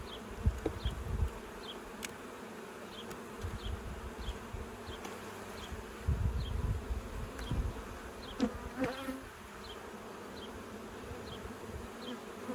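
Honey bees buzzing steadily around an open hive full of honey and hatching brood, a close, continuous insect drone with individual bees passing near at intervals.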